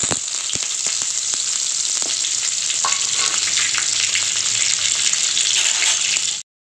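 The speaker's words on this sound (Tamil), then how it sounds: "கொஞ்சம் சீரகம் இப்போ நல்லா பொரியட்டும் பட்டை இலையில் எல்லாம் சேர்த்துக்கலாம்" Cumin seeds, cinnamon, bay leaf and curry leaves frying in hot oil for a Chettinad chicken curry, a loud, bright crackling sizzle with sharp pops early on and a few stirring scrapes.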